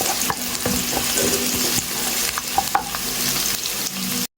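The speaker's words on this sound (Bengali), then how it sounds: "তারপর তেলটা গরম হয়ে আসলে আমি দিয়ে দিচ্ছি এখানে পরিমাপ মতো পেঁয়াজ স্লাইস করা।" Sliced onions frying in hot soybean oil give a loud, close, continuous sizzle with occasional spatula scrapes and taps against the pan, ending abruptly.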